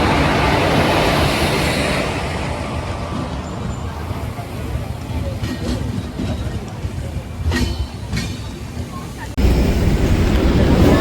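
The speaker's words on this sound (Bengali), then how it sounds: "এই যে তাম্রলিপ্ত এক্সপ্রেস আসছে, এর জেনারেল কোচে যাবো, প্রচুর ভিড়।" Tamralipta Express arriving at a crowded station, a loud heavy rumble of wheels and carriages rolling past close by, with a crowd murmuring and a few sharp clanks, and the roar swelling again near the end.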